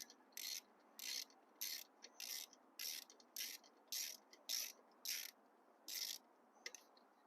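Ratchet wrench tightening valve cover bolts on a Honda Accord: about a dozen crisp, evenly spaced clicking bursts, close and fairly quiet, with no talking.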